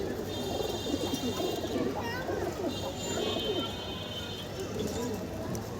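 Pigeons in a loft during molting season coo in soft, repeated low murmurs close by, with fluttering and faint background voices mixed in.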